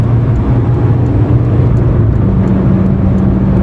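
A Honda Civic EG with new suspension, bushings and brakes cruises at about 70 mph on a test drive, a steady low road and engine drone with tire hum filling the cabin.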